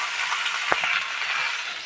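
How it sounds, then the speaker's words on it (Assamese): Meat and potatoes fry in a pan with spiced masala paste, a steady close sizzle broken by a few scraping stirs of a spoon. "এতিয়া আলুৰ লগত এইখিনি লৰাই পিনি ভাজোঁ"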